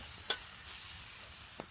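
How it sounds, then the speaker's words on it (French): Small red and white onions frying in a little oil at a bushcraft tipi camp, a soft steady sizzle broken by a couple of brief stirring scrapes. "on est en train de faire revenir les petits oignons, donc un rouge, un blanc, donc un peu d'huile"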